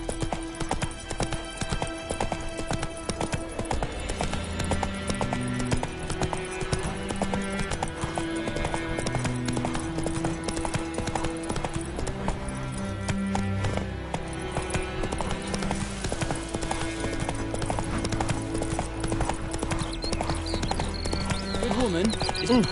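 Hooves clip-clop in a fast, steady gallop from a horse in a video game, close and continuous, with a whinny and a voice speaking over it and game music in the background.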